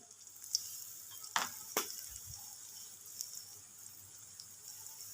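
Cumin and coriander sautéing in a pan for rui fish with mukhi kochu, a soft, quiet sizzle with a few sharp scraping strokes of stirring early on, then fading to a low hiss.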